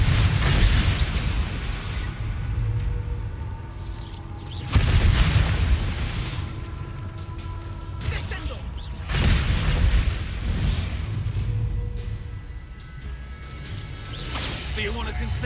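Confringo blasting spells fired during a Hogwarts Legacy duel: repeated heavy booming explosions with whooshing bursts, several loud blasts spaced every few seconds over a continuous dense game soundtrack, with voices calling out spells.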